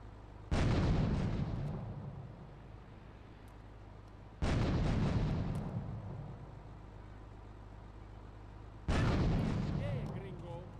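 Three heavy blasts from gunfire and grenade explosions in the game Grand Theft Auto III, each a loud burst decaying over a few seconds, spaced about four seconds apart over a steady low hum.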